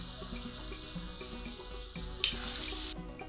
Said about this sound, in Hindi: सभी बादाम को हम इस तरह से डिप करके एक एक करके डालते जाएंगे और मीडियम फ्लेम पर हम इन्हें फ्राई करेंगे